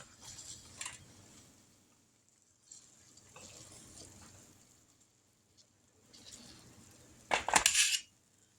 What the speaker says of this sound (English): we're going to take these tongs and see if we can get them out of here without them falling apart